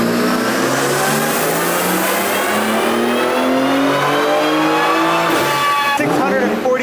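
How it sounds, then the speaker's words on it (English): Tuned BMW fitted with a JB4 piggyback tuner screaming at full throttle on a dyno, a loud sustained rising engine howl with a brief dip and climb near the end. "We cannot slow down this car on the dyno."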